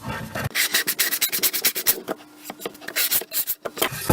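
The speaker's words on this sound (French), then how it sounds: "je vais poncer toutes mes plaquettes, enfin mes deux plaquettes, un peu partout" Two small wooden boards being hand sanded for a cane display stand, a steady run of rasping back-and-forth strokes heard up close with no talking.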